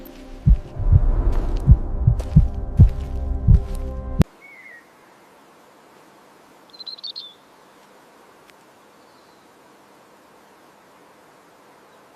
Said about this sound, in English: Heartbeat. Listen to the heartbeat.